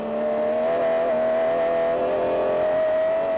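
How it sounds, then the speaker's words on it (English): A BMW M3-engined Land Rover racing and overtaking in the Lichtenburg 400 off-road race of 2001, its engine droning in a sustained high whine that rises slightly in pitch, loud and steady. "Barker, hard at work at the wheel of the BMW M3 engined Land Rover"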